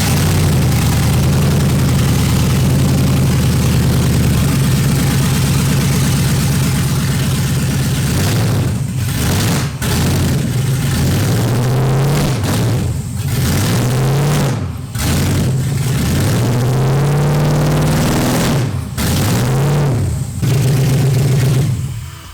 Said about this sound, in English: you should really listen to this thing start